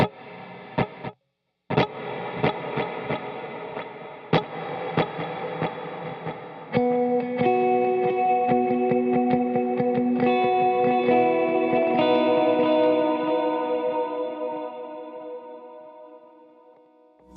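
Picked electric guitar notes echo with repeating delays that smear into a swelling reverb wash, building to a dense sustained tail before fading out.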